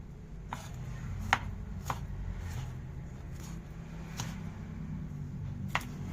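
A knife slices tomatoes on a cutting board for sinigang sa bayabas, giving sharp, sparse taps at irregular intervals over a low background hum, with no talking.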